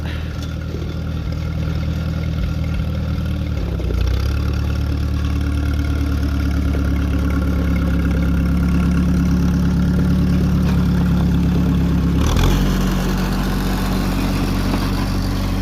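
A heavy Oliver 550 tractor engine drones steadily and loudly throughout, with a low rumbling idle that shifts slightly in pitch near the end, as it plows snow.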